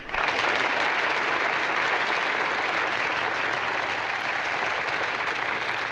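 Sustained applause from a crowd, steady and loud throughout, with no break in the clapping.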